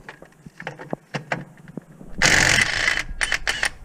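A ratchet works bolts loose on an AC bracket of a 6.6 Duramax diesel, with quick close clicking bursts followed by a louder grinding rattle.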